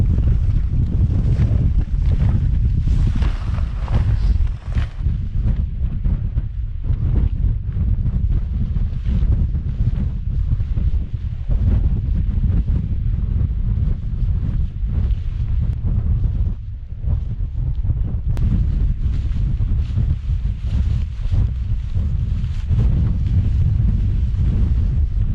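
Strong wind buffets a rainy campsite, roaring continuously against the microphone with gusty surges and rumbling low noise throughout, no talking.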